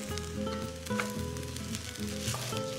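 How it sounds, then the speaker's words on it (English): Chopped garlic is stirred into rice frying in a pan, giving a steady close sizzle with a few scraping stirs and small knocks of the utensil against the pan. "Stir in this chopped garlic now that the rice is milky looking"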